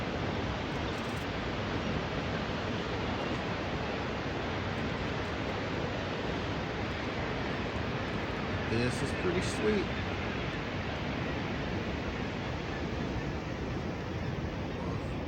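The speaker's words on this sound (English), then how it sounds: "the sound of the water" Glacier meltwater pours down from the ice above Whittier, Alaska, as a steady, even rushing wash that holds for the whole stretch, with a short spoken remark partway through.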